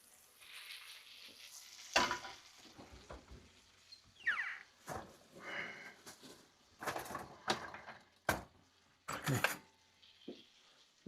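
Four eggs in butter fry in a pan for scrambled eggs, a soft sizzle under intermittent clatter and scraping of utensil against pan, with brief talk.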